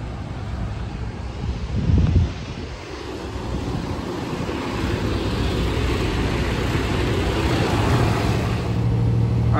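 A truck pulls away after a pickup and heads for the freeway, a steady low engine rumble mixed with wind buffeting the microphone, building slightly as it drives on.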